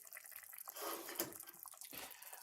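Pot of pasta water bubbling over too-high heat, faint watery burbling and splashing close by, with no talk.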